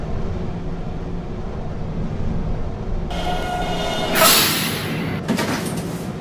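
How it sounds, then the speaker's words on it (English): An R152 subway train in the Roblox PTA Classic game runs with a steady rumbling drone, then brighter hissing and whining rises as it slows, with a short sharp burst near the end, no voices present. "This is a Kennedy Main Street bound 7 local train."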